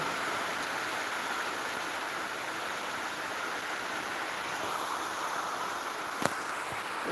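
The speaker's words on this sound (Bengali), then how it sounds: "প্রচুর বৃষ্টি হচ্ছে আমাদের এদিকে" Heavy rain pours steadily in an even, hissing wash close by, with one brief sharp tap near the end and no voices.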